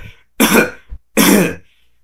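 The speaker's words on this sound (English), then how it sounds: "How long have you had the cough?" Two harsh, loud coughs from a man suffering from nitre exposure in a damp underground wine vault, separated by a short gap with a small throaty catch between them, heard alone and close.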